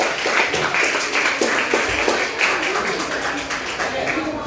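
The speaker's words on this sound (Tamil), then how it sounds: "எல்லாரும் கைத்தட்டி உற்சாகப்படுத்துங்க." A crowd at a school poetry competition prize-giving for International Mother Language Day keeps up dense, scattered applause for a third-place winner while a voice talks over it.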